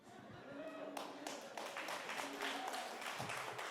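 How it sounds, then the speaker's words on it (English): Audience applause in a hall at a Watershed Charlotte gathering, a dense patter of clapping that swells after the first second and holds steady, with a voice speaking underneath. "Watershed is the only place where people will clap for that"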